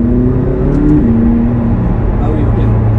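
A supercar engine, driven in sunny Geneva, gives a steady low drone with a rising pitch, then settles into a sustained hum under ongoing talk.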